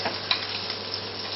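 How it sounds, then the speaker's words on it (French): Scallops sear in a very hot pan with clarified butter, giving a steady, close sizzle with a few faint ticks and no voices. "une poêle donc avec un petit peu de beurre clarifié, poêle bien chaude, matière grasse bien chaude pour bien saisir les Saint-Jacques"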